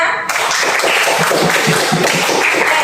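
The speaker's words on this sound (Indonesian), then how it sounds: "Tepuk tangan untuk kelompok 3." Classmates clap for a student group after its presentation in a school classroom, a dense, steady patter of many hands filling the whole stretch at close range.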